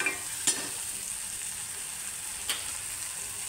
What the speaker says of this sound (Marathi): आता हे सगळं असं परतवून घ्यायचं.